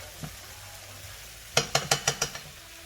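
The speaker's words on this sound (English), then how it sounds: "I'm going to give it a stir, and I'm just going to let it fry for a little bit." Spicy African pinto beans being stirred in a frying pan, a low sizzle under five quick, sharp scraping clacks of the spoon against the pan, close and distinct.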